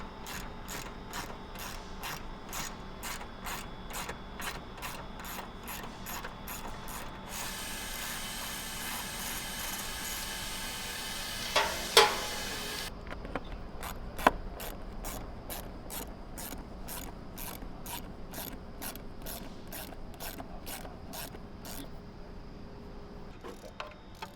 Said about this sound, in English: Next, you're going to remove this bolt and then loosen both the hose clamp at the top and at the bottom near the turbo.